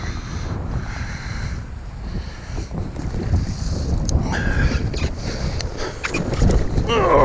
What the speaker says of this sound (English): it's hard to even get in the kayak with this wind.